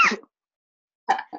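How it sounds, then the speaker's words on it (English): A person sneezes softly into something, a short breathy burst followed by a pause and a second small sneeze-like exhale, close and isolated against silence. "practicing that safe sneezing even in my own room"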